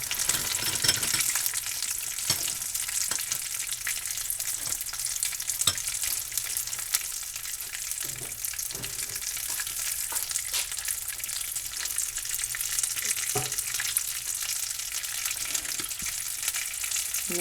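Potatoes fry in a pan with a close, continuous sizzle and scattered crackles and pops, with no talking.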